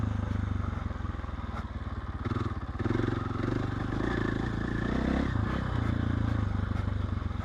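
A KTM 1290 motorcycle riding off-road along a single track, its engine droning steadily and loud throughout with small swells as the throttle opens, plus faint clatter from the terrain.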